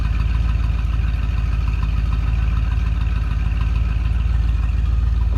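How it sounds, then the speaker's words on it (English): A 1965 Ford Thunderbird convertible's 390 V8 idles with a steady low rumble, even pulsing throughout, close and unbroken with no talk over it. "A little rumble coming out of 390."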